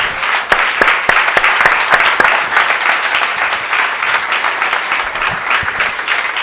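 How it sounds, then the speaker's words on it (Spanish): A church congregation applauding during a Spanish-language service, loud, dense clapping with a few sharp individual claps standing out early, sustained throughout. "Dele un aplauso al Señor."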